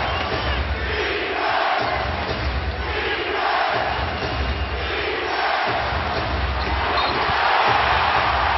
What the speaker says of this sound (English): Crowd back in it.